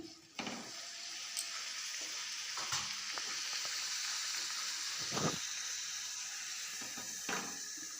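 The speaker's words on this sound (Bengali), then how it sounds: "এবার আমি একটা একটা করে পুরিগুলো তেলের মধ্যে ছেড়ে দেব।" Palak puris frying one at a time in hot oil, giving a continuous bright hiss with a few sharper crackles and pops as dough is slid in, close and steady with no speech.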